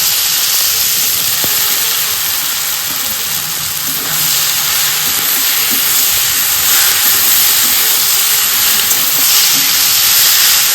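Soybean chunks hiss and sizzle steadily in a hot pan with already-fried spices, a loud continuous broadband frying noise with occasional faint clatter, no talking.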